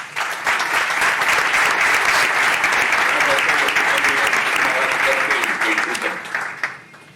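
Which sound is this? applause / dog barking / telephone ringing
applause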